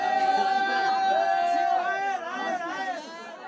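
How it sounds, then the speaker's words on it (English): A crowd jeers at a small group of men and women holding a banner in Yemen, a loud, continuous mass of overlapping shouting voices that slightly thins toward the end. "A small group of men and women with a banner were being jeered by the crowd."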